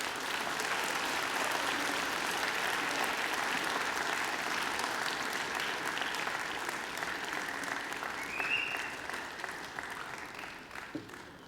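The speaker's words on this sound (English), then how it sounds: "And now I invite you to give them a mighty round of applause." A large graduation-ceremony audience of families and graduates claps steadily and densely for over ten seconds, a sustained, fairly even wash of applause that thins slightly near the end.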